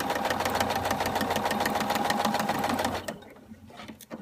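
A sewing machine stitches a straight seam for a zipper, running in a loud, steady whir with a rapid needle rhythm for about three seconds before stopping, followed by a few faint handling clicks.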